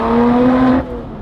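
A Lotus Exige Sport 380 on Michelin Sport Cup 2 tires sends out a loud, close exhaust note with a steady droning tone while driving on real roads, then drops off sharply near the end.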